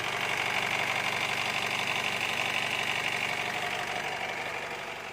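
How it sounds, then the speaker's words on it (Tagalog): A new Honda CR-V diesel engine idles steadily and fairly quietly up close, an even mechanical hum with a faint rhythmic knock, easing slightly at the end. "Dito ka makakita sa Honda na unit na diesel pero hindi maingay."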